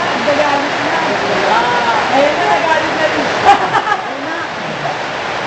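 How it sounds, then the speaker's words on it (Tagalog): Steady rain falling in a cool place, a dense continuous hiss and patter like running water, with a person speaking over it. "Maraming salamat, Panginoon, sa ulan at kami ay malamig sa lugar na ito."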